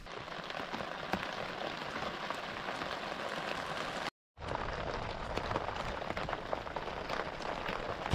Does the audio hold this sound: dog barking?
no